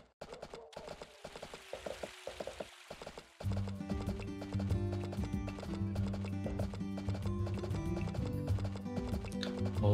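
A horse named Roach clip-clops home with a rider in Story of Seasons: A Wonderful Life. Quick steady hoofbeats play over light background music, and a short neigh comes near the start.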